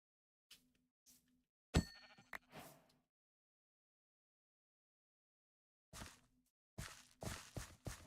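Sheep in a video game bleat in short separate calls, a few scattered early, then a pause of silence, then a quick cluster of bleats near the end, clear and close.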